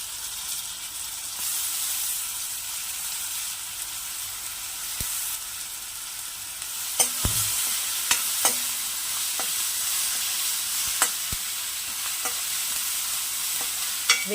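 Tomatoes for an okra curry sizzle and hiss steadily in a hot pan, with sharp clinks and scrapes of a spoon stirring them, close up and alone.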